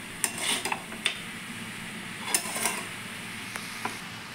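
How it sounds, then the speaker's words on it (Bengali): A spoon scrapes and clinks against a pan while fish-head and cabbage curry is stirred, giving a few irregular, quiet knocks over a faint background hiss. "এবার আমি ভালো করে এটাকে নাড়াচাড়া করে নেব।"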